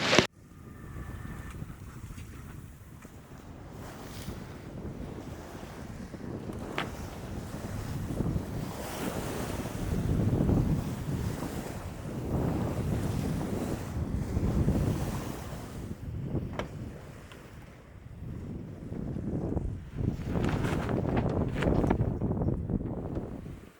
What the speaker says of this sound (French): On devrait avoir ce vent un bon petit moment